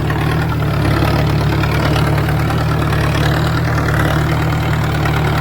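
A tractor engine idles steadily with a low, rumbling chug that holds constant and close throughout, no voices.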